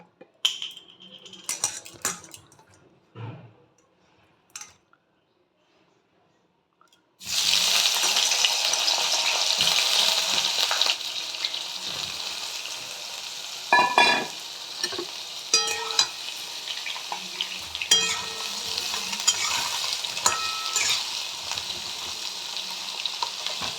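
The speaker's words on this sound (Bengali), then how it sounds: "দেখো তেলটা একটু তেল দিয়ে দিলাম। আমি বেগুন ভাজবো।" Eggplant frying in hot oil in a home kitchen: after a few quiet clinks of utensils, a loud, steady sizzle bursts in close by and keeps crackling, with occasional stirring and scraping.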